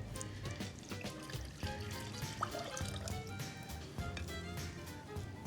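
Water poured into a pot of syrup made with Greek pine honey in a home kitchen, a faint steady trickle and splash running under light background hum for a few seconds.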